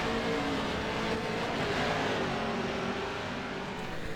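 Race cars circling a dirt track during a 12-lap league race, a steady loud roar of engines revving and droning continuously in the distance with no talk.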